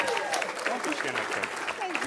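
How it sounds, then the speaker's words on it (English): Audience at an anniversary gala breaking into a short burst of applause, the dense clapping partly overlapped by a speaker's voice. "Can we give her a round of applause?"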